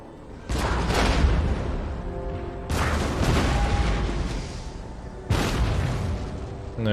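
Empire: Total War British line infantry volley against Mamluks: three heavy musket volleys crash out in succession, each a broad booming burst that rolls and crackles before the next, loud with no talk.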